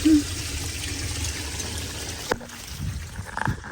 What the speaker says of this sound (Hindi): पानी लीक हो गया सारे सारे।